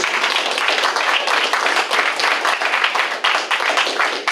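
Warm audience applause at a community coffee house concert, a dense, steady roar of many hands clapping that stays loud and even for several seconds with no voices over it.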